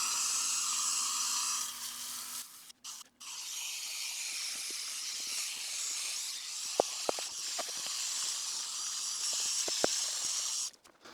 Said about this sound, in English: we're just going to start brushing